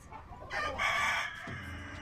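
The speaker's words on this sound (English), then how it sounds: "Brought in to fight off the mutant chickens" Chickens cluck and a rooster crows in a short, mid-distance burst, with a busy farmyard murmur around them and no talk.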